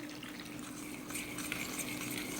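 Milk poured by the glassful into a bowl of batter for a Laz böreği baklava dessert, a steady liquid stream that grows slightly louder partway through, alone with no talk.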